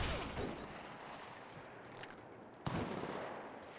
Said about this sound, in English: Opening fire. Opening fire.